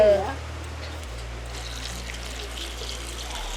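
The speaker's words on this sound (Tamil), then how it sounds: "இது நாங்கள் தேவையான அளவு தண்ணி விட வேணும்." Water pours steadily into a cooking pot with a continuous splashing trickle, close by, under a low hum, in a village kitchen in Jaffna, Sri Lanka.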